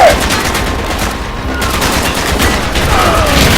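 Loud, close gunfire from Call of Duty: Black Ops on Xbox 360, with rapid overlapping shots and machine-gun bursts running continuously for a few seconds.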